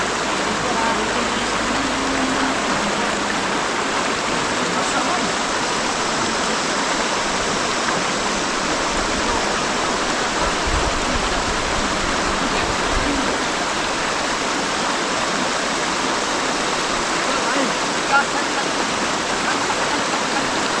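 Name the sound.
river water flowing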